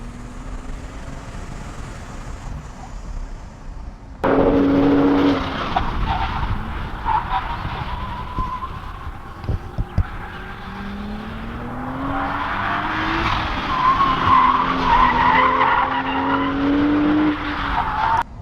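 A manual Toyota GR Supra on stock brakes and Pilot Super Sport tires is pushed to its limits on a race track: a loud engine roar rises and falls through the gears, with squealing tires through the corners.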